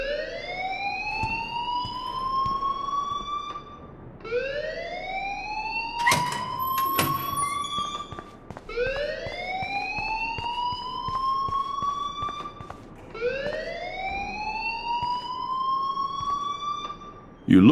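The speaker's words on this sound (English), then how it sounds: "please turn off that alarm since that's your job" In the Life Is Strange video game, a loud electronic alarm wails in repeated rising sweeps, four long upward glides spaced a few seconds apart, over a noisy background.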